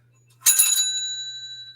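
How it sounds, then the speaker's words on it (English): A working bell on a Radio Flyer tricycle with spoke wheels rings once with a sharp bright strike, its metallic tone ringing on and slowly fading, close and clear with no talk. "It's got a working bell."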